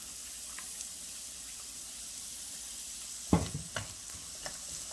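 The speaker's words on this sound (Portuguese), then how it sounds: "Agora eu vou colocar a cebola e o alho." Onion and garlic drop into melted butter in a pan: a quiet steady background hiss, then a sudden loud burst of sizzling with a few following stirring clatters that settle into crackling.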